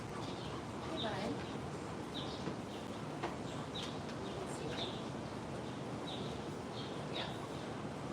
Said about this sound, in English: So you can hear the birds a little. They're getting a little chattier now.